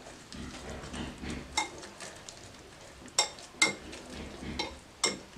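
Chopped tomato and green chili being stirred together in a bowl, with a few sharp spoon clinks against the dish over a soft scraping, mixing sound, and no voices.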